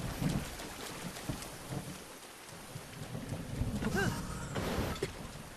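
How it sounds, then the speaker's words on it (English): Steady rain falls in the Breath of the Wild video game, a constant hiss of drops with a low rumble of thunder, alongside some faint croaking and in-game sounds. "if it's raining non-stop like it appears to be"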